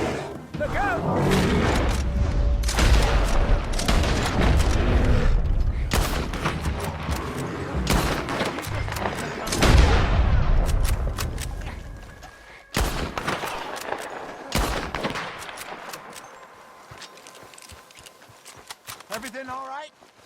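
Gunfire and loud booms in the Western video game Red Dead Redemption 2, with bursts of shots and impacts over roughly the first thirteen seconds, then scattered sharper shots, mixed with in-game voices shouting and hoofbeats.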